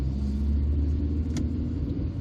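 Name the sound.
small car engine driving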